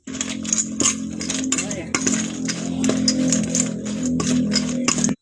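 A knife slicing fish clicks and taps repeatedly against a cutting board in quick irregular strokes, close up, over a low background hum.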